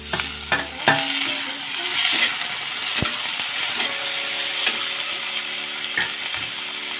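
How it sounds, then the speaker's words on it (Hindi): Tomatoes sizzle and fry with lightly browned onions in a pan, a steady close crackle with stirring and scraping through it and a few sharper clinks near the start. "और इसमें ये टमाटर को ऐड कर देती हूँ।"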